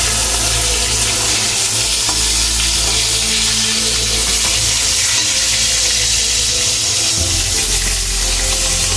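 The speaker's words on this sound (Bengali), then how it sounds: "এটা এরকম হালকা করে ভেজে নিতে হবে।" Bhola fish fries lightly in a pan with a little water, producing a dense, loud, continuous sizzle and hiss close up, without speech.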